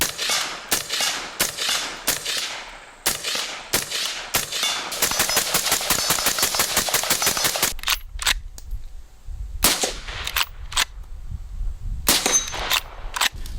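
A suppressed rifle empties a magazine of 5.56 ammunition in a long run of sharp, cracking shots. Single shots come first, then a fast steady string, and scattered shots follow with quieter gaps. No one speaks.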